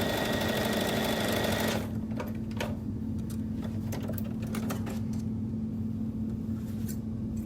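Sewing machine stitching quilt-as-you-go quilt blocks, a steady fast whirring hum that runs loudly for about two seconds, then drops to a quieter idle hum with faint handling clicks.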